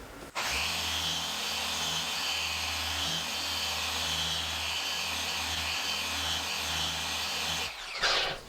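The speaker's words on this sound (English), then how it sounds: "when I go to hit it again with another pass of the polisher" A machine polisher runs steadily on the paintwork of a 2016 Bentley Continental, giving a continuous whirring drone with a low motor hum for about seven seconds before stopping, then a brief burst near the end.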